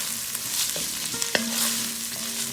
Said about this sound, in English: Give that a stir in, it'll turn everything a nice red color.